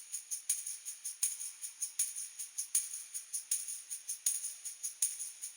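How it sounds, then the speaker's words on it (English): Processed tambourine in a shoegaze production, shaking in a steady repeating rhythm of bright jingly hits, about two to three per second, heard alone and fairly quiet with no voices. "when it's recorded into the track, the tambourine is going to sound like this."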